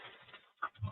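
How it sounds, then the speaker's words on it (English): A small dog in a studio pants softly and lets out a brief whimpering squeak followed by a low grunt, all close and fairly faint. "My little dog's here making lots of noise, folks."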